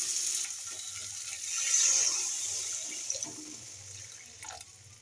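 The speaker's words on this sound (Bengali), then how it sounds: "এবার আমি জল দিয়ে দেবো" Water pours steadily into a pan of fried spice paste for an egg curry, with a rushing, hissing sizzle that swells and then fades, a few light clinks near the end.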